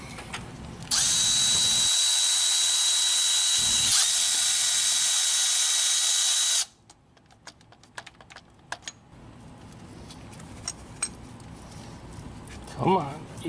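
Loosened bolts being spun out by hand during a power steering pump replacement on a 2012-2015 Honda Pilot, after a loud sustained power-tool whir; faint light metallic clicks and ticks follow, with occasional voices.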